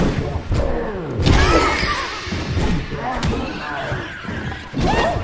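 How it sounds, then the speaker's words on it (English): Heavy doors in the Kung Fu Panda video game slam shut with a few loud, booming thuds spaced across a few seconds, mixed in with game effects and a voice talking. "go ahead and safely close them doors"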